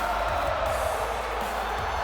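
Arena crowd roaring continuously in WWE 2K18 wrestling at Hell in a Cell in Atlanta, Georgia, a steady, dense wash of distant cheering with no clear breaks.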